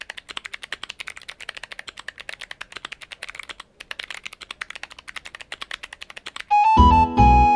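Fast, steady typing on a Cherry MY-8000 keyboard with clicky switches, dense close keystrokes with one brief pause, then a sudden loud burst of music at the end.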